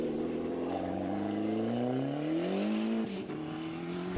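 A Ford Sierra Cosworth historic rally car engine climbs through the revs in a loud, rising buzz, then a sharp gear change breaks the pitch before the engine pulls on again, quite close.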